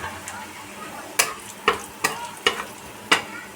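Onion and garlic browning in hot oil on lowered gas with crushed black pepper added, a steady soft sizzle broken by five sharp spatula knocks and scrapes against the pan at irregular intervals.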